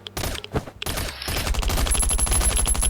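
Rapid gunfire in the survival shooter game Last Island of Survival, dense bursts of shots, loud and close, running almost continuously, broken by a brief pause near the start.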